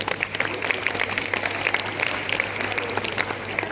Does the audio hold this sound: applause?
yes